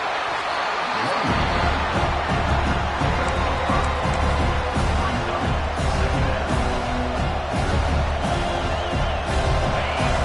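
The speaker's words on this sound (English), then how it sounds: "listen to this crowd noise. This stadium is vibrating." Loud, dense college football stadium crowd roar fills the whole stretch, a steady wall of massed voices and cheering without a break.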